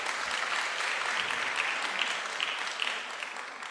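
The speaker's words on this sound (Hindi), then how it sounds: "तालियां बजाएंगे।" Enthusiastic applause from a church congregation fills the room, a dense and continuous wash of clapping at moderate distance that runs steadily from start to finish.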